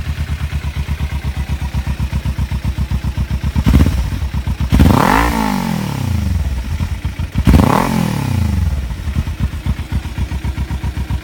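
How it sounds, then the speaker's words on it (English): A Kawasaki Ninja 300 with a Yoshimura slip-on exhaust idles in a steady close-up putter, then revs hard twice, each sharp rise in pitch falling back to idle. "So this is what the Ninja 300 sounds like."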